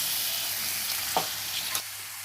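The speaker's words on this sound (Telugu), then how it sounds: "ఇప్పుడు చికెన్ని తిప్పుకుందాం" Chicken pieces sizzle in a hot pan with a steady close hiss, and two short scraping clacks mark the pieces being turned. No one speaks.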